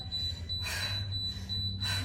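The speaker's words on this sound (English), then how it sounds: "I'm just going to keep going until the beeping stops." A workout timer beeps faintly in a steady high tone under a low hum, with soft broadband bursts breaking in twice; no one speaks.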